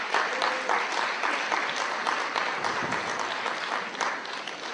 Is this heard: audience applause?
yes